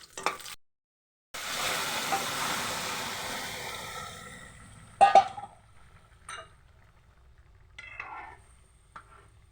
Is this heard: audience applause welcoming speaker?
no